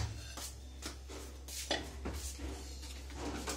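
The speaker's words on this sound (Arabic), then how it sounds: "دابا غادي نخلط هاد جوج مكونات بهذه الطريقه" Two hair-mask ingredients stirred together in a bowl, a series of soft scraping knocks of a utensil against the bowl in an uneven rhythm, close and faint over a low steady hum.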